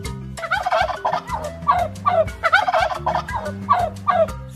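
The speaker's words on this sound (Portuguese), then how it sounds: "Se você respondeu que esse é o som do peru," A turkey gobbles in repeated loud, rapid bursts over a steady musical backing, several gobbling calls spaced close together across the whole stretch.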